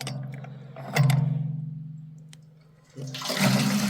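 Water gushes from a hand pump with a leather gasket, pulsing in strokes: a pumped surge, a tapering flow, then another surge, close and fairly loud.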